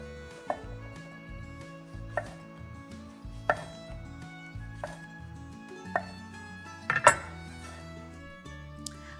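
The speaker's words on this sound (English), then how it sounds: "I just sort of slice them up and throw them right in the soup" A knife slices cleaned mushrooms (baby bella and shiitake) on a cutting board for a soup, making about eight crisp, evenly spaced chops with light clinks, close and clear, with no talking.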